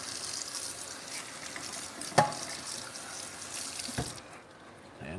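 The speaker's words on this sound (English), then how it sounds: "Give that a quick rinse." Kitchen tap running as something is given a quick rinse, a soft, fairly faint stream of water with a couple of brief knocks, stopping just before the end.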